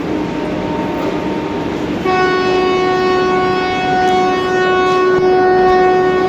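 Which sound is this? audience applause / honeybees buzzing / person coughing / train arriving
train arriving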